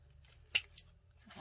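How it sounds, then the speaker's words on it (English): A single crisp snip of fabric scissors cutting through material, quiet and close, followed by a softer second click of the blades. "Okay, let me cut this off."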